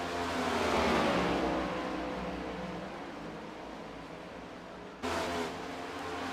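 Race car in a Scrambler Series race pulling back onto the racetrack, a steady loud engine roar that fades slightly, then a sudden burst of louder engine noise near the end.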